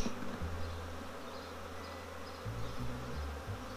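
Steady low hum of honeybees swarming around a hive, a dense close drone whose pitch wavers slightly as individual bees pass, alone without any speech.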